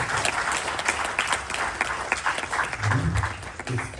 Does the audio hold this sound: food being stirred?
no